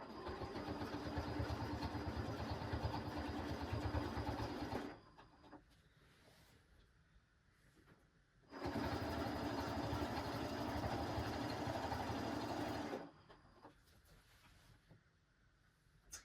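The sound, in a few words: sewing machine quilting with walking foot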